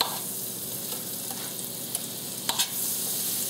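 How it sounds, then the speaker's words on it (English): Butter, about a quarter stick, sizzles and crackles steadily in a frying pan alongside bacon, with a few sharper pops and scrapes near the end. No one speaks. "I wanna put some butter in the pan."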